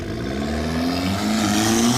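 A turbocharged car spools up and accelerates away at a street racing event, a rising engine drone with a climbing whine growing steadily louder over about two seconds.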